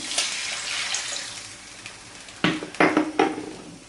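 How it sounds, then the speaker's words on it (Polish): Water is poured into a pan of fried meat with bacon and onion, a splashing pour followed by a few sharp sizzling bursts and clinks near the end. "Mięso z boczkiem i cebulą już mam podsmażone. Podlewamy wodą."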